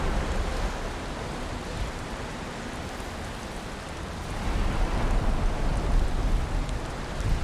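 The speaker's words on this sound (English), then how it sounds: "You are wet. It's because of the rain." Rain pours steadily in the Valheim game world, a dense, even hiss of drops that swells slightly louder toward the end, with no voices over it.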